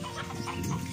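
Chickens cluck in a brief, close burst in a backyard kitchen garden, with several overlapping calls.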